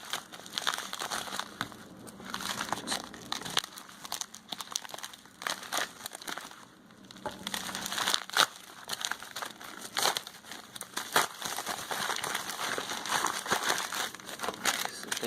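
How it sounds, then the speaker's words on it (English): Plastic wrapping on a Samsung Galaxy A50 box crinkles and tears open, with close, steady crackling throughout and occasional sharper rips. "So let's open this plastic first."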